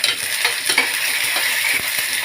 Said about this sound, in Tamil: இப்போ வெங்காயம் பூண்டு போட்டு வதக்குறோம்.